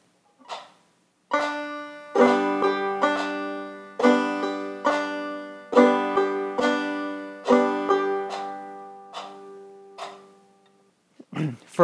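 Clawhammer banjo picks out a bum-diddy rhythm in steady, evenly spaced plucked strums with ringing strings, kept in time with a metronome, close and clear, with a short break after the first stroke and a brief bump at the end.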